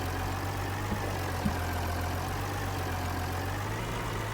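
Tractor engine idling steadily in Farming Simulator 22, a Belarus tractor with a sprayer, a low continuous rumble at constant loudness with two faint clicks early on and no talk.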